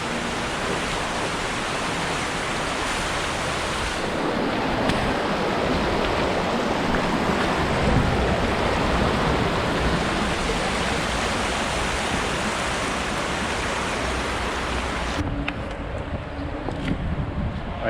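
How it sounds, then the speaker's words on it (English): Mill Creek flowing through an industrial area, a steady, close, dense rush of water that continues unbroken throughout with no voices. "And Mill Creek continues on here."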